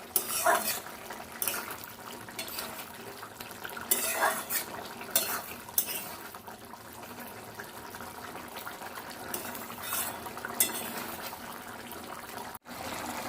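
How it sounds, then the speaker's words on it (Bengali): Spoon stirring sugar into a cauliflower and potato curry made with Gobindobhog rice in a pot, repeated scraping strokes against the metal in uneven bursts with a faint bubbling underneath. "চিনিটা দিয়েছি ভালো করে নাড়িয়ে দেবো"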